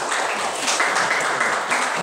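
A classroom of students applauds a group that has just finished presenting, a dense, steady wash of many hands clapping together throughout.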